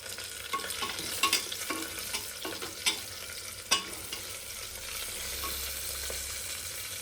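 Green chillies tossed into onions already sautéed in a pan for dal khichdi, giving a faint, soft sizzle with scattered spoon scrapes and taps against the pan, and no talking.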